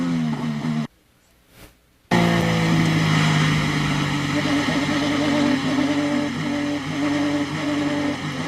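An IndyCar race car engine running in limp mode at the Detroit Grand Prix drones steadily and loudly. A brief silent gap comes near the start, and commentary can be heard over the engine.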